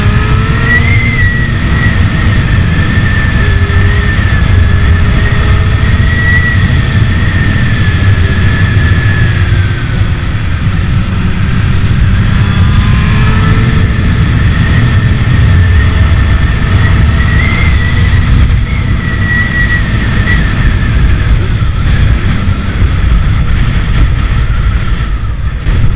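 A 2009 Honda Hornet 600 motorcycle engine runs loud and close with wind noise, its pitch rising and falling through repeated revving passes over a sustained ride, without talk.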